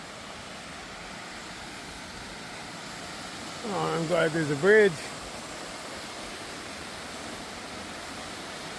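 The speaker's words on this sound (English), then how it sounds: "There's some waterfalls going on" Steady broadband rush of waterfalls beside a trail in Glacier National Park, a constant wash of falling water that fills the scene, with a short spoken remark rising above it midway.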